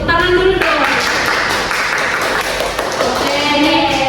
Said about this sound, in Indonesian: Windy tepuk tangan dulu dong